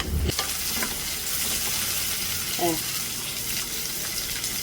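Onions and tomato fry in hot oil for a Kasaragod-style pomfret fish curry, giving a steady, close sizzle throughout with a brief scrape of stirring near the start.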